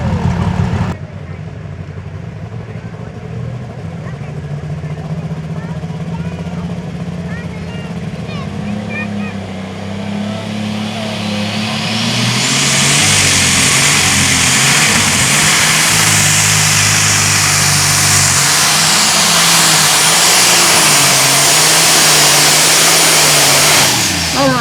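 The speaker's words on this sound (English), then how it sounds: "A lot of horsepower under the hood of that case tractor known as Evening Thunder" A Case pulling tractor called Evening Thunder makes a run at a truck and tractor pull, its engine climbing from a rumbling drone into a loud, sustained high-revving roar that holds to the end, with an announcer talking over it.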